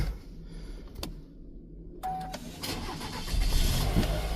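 A 2024 Chevrolet Silverado 1500 pickup's 2.7 TurboMax engine cranks after a couple of clicks and catches, rising into a low rumbling idle that grows louder and steadier.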